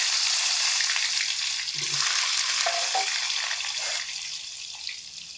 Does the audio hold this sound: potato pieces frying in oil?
yes